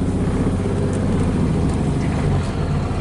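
A 1961 VW Beetle engine idles and rumbles steadily while reversing on a test drive, a loud, close, continuous low drone with no talking.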